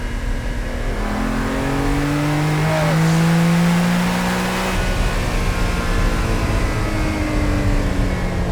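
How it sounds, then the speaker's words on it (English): Ferruccio Lamborghini's personal Lamborghini Countach, a classic V12 car, runs while driving. The engine gives a loud, smooth, continuous roar that swells as it accelerates, then settles into a steady cruise. "It's firing beautifully on all 12 cylinders."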